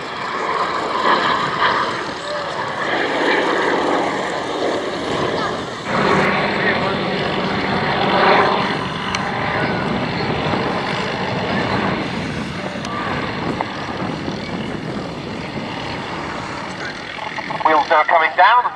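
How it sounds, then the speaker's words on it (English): A Douglas Dakota propeller aircraft flies past at the Abingdon Airshow, with a steady, loud engine drone throughout and commentary voice over it. "Wheels now coming down and the aircraft will be teardropping round to land."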